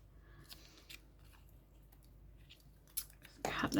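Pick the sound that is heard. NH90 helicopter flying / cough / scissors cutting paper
scissors cutting paper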